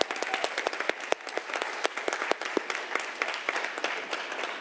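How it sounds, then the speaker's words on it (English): Audience applause at an academic talk on policing and prisons, a lively mix of crisp individual hand claps over a steady bed of clapping from a moderately sized crowd. "Please give him a round of applause."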